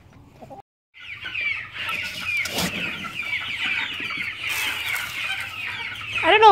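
Meat bird chickens cluck steadily and close by in a coop, with a brief silent gap near the start and busy overlapping calls that swell louder toward the end.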